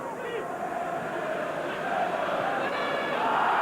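A football crowd at a 1996 Newcastle United versus Aston Villa match swells in a broad, rising roar of shouting in the stands, distant and continuous, growing louder toward the end.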